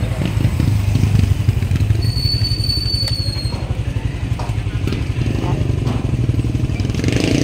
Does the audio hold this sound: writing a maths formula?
no